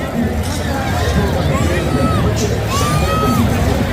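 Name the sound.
applause from the Getafe stadium stands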